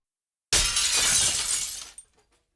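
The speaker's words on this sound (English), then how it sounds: "He reached down, picked up a brick, and threw it right through one of the big glass doors. The door shattered loudly into a million pieces." Big glass door shattering as a thrown brick smashes through it, one sudden loud burst of breaking glass lasting about a second and a half, then a last tinkle of falling shards before silence.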